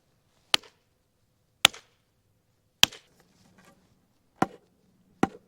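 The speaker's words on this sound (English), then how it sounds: "Let's try our puck noise." A hockey puck smacks down on the ice of an outdoor rink, five sharp, separate hard knocks at uneven intervals, close and crisp against near silence.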